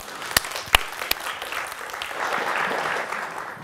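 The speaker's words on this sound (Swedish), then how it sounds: "vi ger dem alla en varm applåd" Warm applause from the audience for a panel at a conference on healthcare and social care collaboration, starting with a few sharp individual claps and building into sustained, moderately loud clapping from the crowd.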